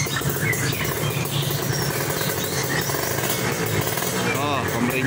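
A 2013 Kawasaki Ninja SS motorcycle engine running at idle, a steady close throbbing rumble that fills the whole stretch, with someone talking over it.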